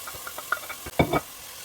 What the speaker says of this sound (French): On met un fond d'huile pour faire revenir les champignons et l'ail